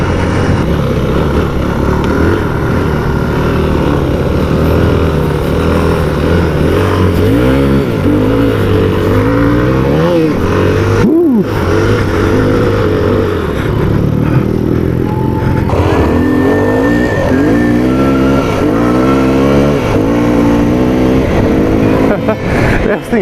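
A Yamaha WR250F dirt bike engine revs and pulls hard while being ridden, its pitch rising and falling through gear changes, loud and close throughout, with a brief sharp burst midway.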